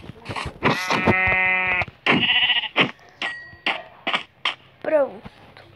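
White sheep in the Minecraft video game bleat repeatedly, with long wavering harmonic cries close and loud, separated by short clicks and game sounds.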